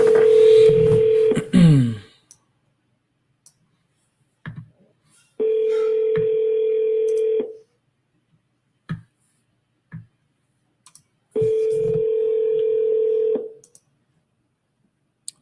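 Telephone call being placed: a few quick dialing tones, then two long steady ringback tones separated by silence, clear and close with faint clicks between.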